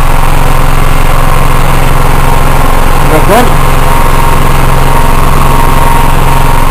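A petrol generator engine running steadily after repair, a loud close continuous drone with a brief higher rattle in the middle.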